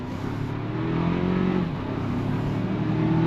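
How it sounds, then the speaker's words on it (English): The four-cylinder engine of a 2025 Toyota 4Runner SR5 with an 8-speed transmission hums and builds gently as it accelerates, heard steadily from inside the cabin with no talking. "The engine is a little noisy, but it is a 4-cylinder."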